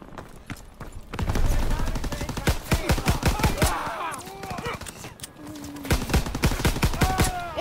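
A PPSh submachine gun fires in a Call of Duty WWII battle, with rapid bursts of close gunfire and a few pauses between them, under shouted voices.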